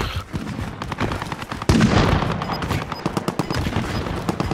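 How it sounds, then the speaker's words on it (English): Rapid bursts of gunfire from Call of Duty Warzone, with a dense rattle of shots and a loud surge partway through, keep going steadily for several seconds. "They're shooting out here."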